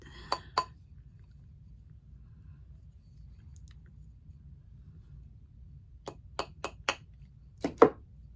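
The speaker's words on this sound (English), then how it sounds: "And just hammer it." Sharp metallic taps ring out in two small bursts: a couple of strikes, a pause, then a quick series of hammer blows rounding a metal necklace piece.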